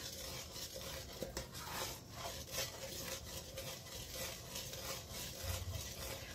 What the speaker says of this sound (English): Keep stirring for the whole minute.